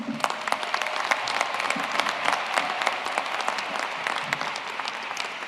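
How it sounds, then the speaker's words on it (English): An audience at a university commencement ceremony claps steadily, a dense, continuous wash of many hands applauding throughout. "let's give these special men and women a warm round of applause"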